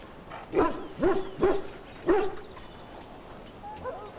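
Dogs in Dragon Age: Origins barking four times in an uneven rhythm, close and fairly loud, followed by a faint whine.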